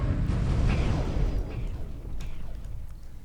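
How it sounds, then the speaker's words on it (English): Heavy battleship cannon fire striking a target in Homeworld Remastered, a dense low rumble of booms that rolls and fades over a few seconds, with a few faint sharper impacts on top. "the cannons on the battleship have already found the target"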